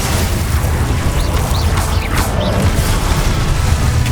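A Glacius ice spell cast in Hogwarts Legacy: a loud, dense burst of crackling, booming game effects with brief whooshing sweeps, unbroken and close throughout.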